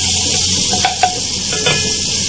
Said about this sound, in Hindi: बटर हमारा मेल्ट हो जाएगा तो इसके अंदर हम अपनी चॉप की हुई प्याज शामिल करेंगे